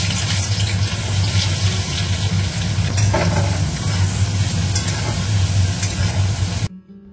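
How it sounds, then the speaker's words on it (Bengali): Onions fry in a pan in a home kitchen, a loud continuous sizzle with stirring scrapes throughout before it cuts off abruptly near the end. "এখানে পেঁয়াজটা ভাজা হয়ে গেছে"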